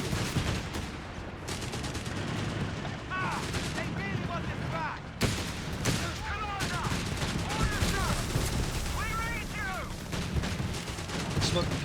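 Dense gunfire and heavy cannon fire from the real-time strategy game Company of Heroes 3, with rapid shots and booming blasts layered continuously throughout, plus scattered whistling and ricochet-like tones.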